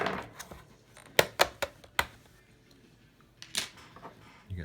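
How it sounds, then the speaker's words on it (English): Prying off the plastic hard drive cover of an HP Pavilion g70 laptop, a close run of sharp plastic clicks and snaps, several in quick succession, then a few softer ones. "take off the hard drive cover. Gonna kind of have to pry it up a little bit."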